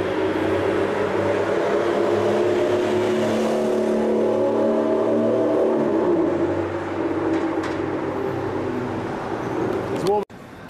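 A Ferrari 458 supercar drives on a London street, its engine droning loud and steady with a low rumble that eases off toward the end. Nearby voices talk over the engine noise.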